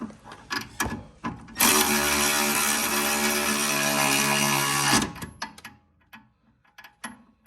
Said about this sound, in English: torque this one down now.